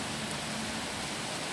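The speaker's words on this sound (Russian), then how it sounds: "дождь идет." Steady soft hiss of rain falling, a continuous wash of noise with no distinct drops standing out, fairly quiet throughout.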